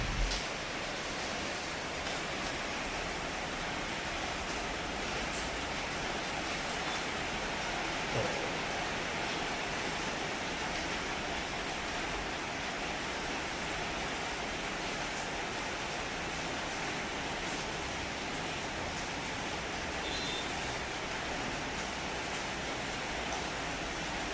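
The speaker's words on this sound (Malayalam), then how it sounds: "വൈകുന്നേരം തുടങ്ങിയ മഴ സന്ധ്യയായിട്ടും അങ്ങനെ ചന്നം പിന്നെ പെയ്തുകൊണ്ട് നിൽക്കണമായിരുന്നു" Steady evening rain pours without pause, a dense, even hiss that stays constant throughout, moderately distant and with no voices.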